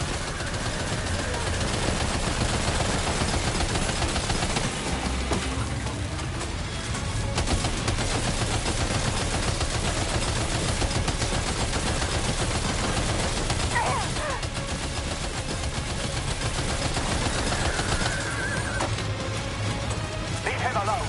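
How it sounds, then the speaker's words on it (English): Sustained gunfire in Death Stranding 2, dense and continuous crackling shots with crashes and impacts layered over rumbling background noise for the whole stretch. "Opening fire now."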